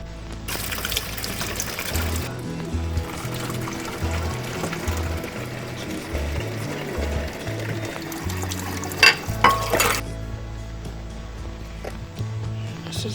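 Water is poured onto a potted lemon tree freshly treated with worm castings, splashing and gurgling steadily for several seconds, up close and with no talk over it.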